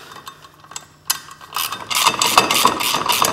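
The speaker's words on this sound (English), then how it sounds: "Tighten this bolt." A ratchet clicks in quick repeated strokes while tightening a bolt on a snowmobile driven clutch, starting with a few scattered clicks and then building into a loud, close, continuous ratcheting.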